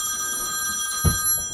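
A telephone bell rings steadily, a bright sustained electronic trill heard close and clear, with a brief soft knock partway through.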